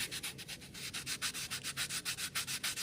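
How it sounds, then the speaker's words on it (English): A carved fishing lure is sanded with 120-grit sandpaper in quick, even back-and-forth strokes, a close, soft, raspy rubbing repeated rhythmically for about three seconds. "We get our 120 and we can sand it"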